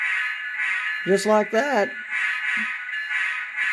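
A model Union Pacific locomotive fitted with an ESU LokSound decoder pulls out, making a steady, shrill, horn-like tone that holds throughout while someone speaks briefly over it.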